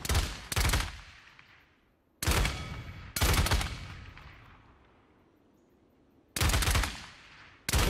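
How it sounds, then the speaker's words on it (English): A frag grenade thrown in the hero shooter Paladins goes off in sharp, booming blasts, several separate loud bursts, each followed by a fading rumble with quiet gaps between them. "Now, launch your frag grenade to hit all targets in the area."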